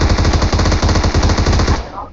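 Rapid automatic gunfire in PUBG Mobile, a loud, evenly spaced burst of shots lasting about two seconds before cutting off with a brief trailing echo.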